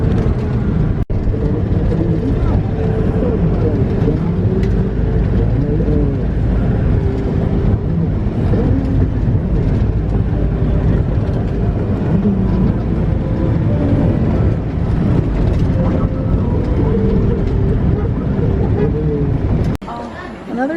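Vehicle driving along a road in the Philippines, a steady loud rumble of engine and road noise heard from inside, with wind buffeting and a continuous low drone throughout.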